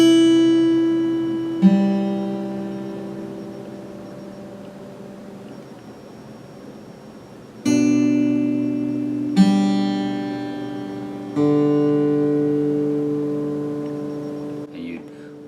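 An instrument plays a phrase very slowly, with a handful of widely spaced notes and chords, each ringing out and fading before the next, clear and close with no talking.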